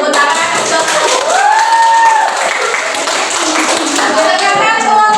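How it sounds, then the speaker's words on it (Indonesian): Group of students clapping together at a school counseling session, steady applause filling the room while a voice speaks over it with rising tones. "kita beri tepuk tangan untuk"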